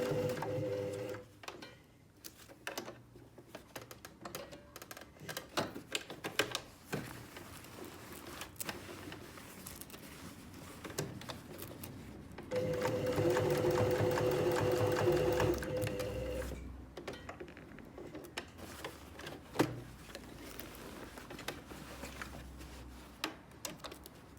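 Sewing machine stitching fabric around the perimeter of a Christmas bottle gift bag, a steady mechanical whir that surges loud for several seconds, with quieter ticking handling noises before and after.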